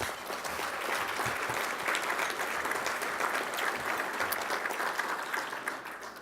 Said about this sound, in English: let's give you a round of applause this morning